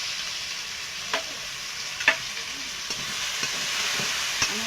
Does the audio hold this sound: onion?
yes